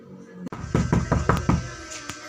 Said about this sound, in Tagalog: Ay, sino bang kumakatok? May tao ata. Sino kayang kumakatok?